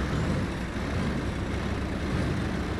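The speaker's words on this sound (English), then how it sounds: "Engine sounds on this are pretty nice." The IX 650 truck mod in the SnowRunner video game runs with a steady, even diesel engine rumble, heard alone at a moderate level.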